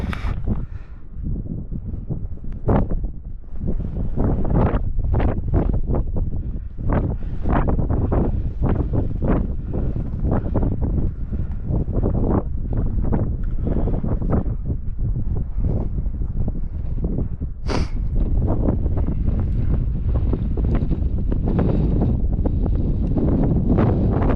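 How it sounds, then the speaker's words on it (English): Strong wind gusting across a Scottish Highland mountain summit in freezing winter conditions, a loud continuous roar buffeting the microphone with heavy rumbling bursts and no pauses throughout. "As you can hear, the wind's still picking up"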